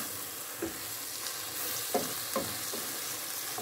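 Tomato paste being stirred in a frying pan with sizzling underneath and a few soft scrapes of the utensil at irregular moments, close and steady with no talking.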